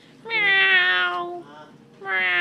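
A person imitates a cat, voicing two drawn-out, sing-song meows with a clear pitched tone, the first long and the second starting after a short pause, close and fairly loud.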